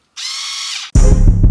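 A power drill spins briefly at a high whine while taking bolts off a car during an audio install, then a loud, close, heavy grinding burst follows as it bites.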